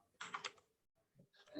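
Light keystrokes on a computer keyboard, two short bursts of tapping separated by a pause, close but quiet, during a programming session.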